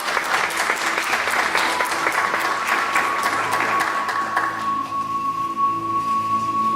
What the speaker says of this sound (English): April, a round of applause for you and your daughter.